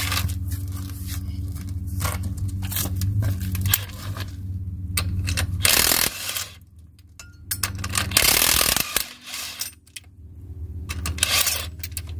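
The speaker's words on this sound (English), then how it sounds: "I need one more socket to get rid of this dumb lug nut" A socket ratchet works a crusty lug nut on a rotten 1977 Trans Am, giving repeated close clicking and mechanical rattling bursts with brief pauses, loud and without talk.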